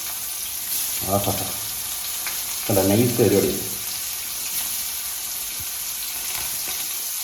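Small pallathi fish frying in hot oil, a steady broad sizzle running throughout, with brief bursts of talk over it.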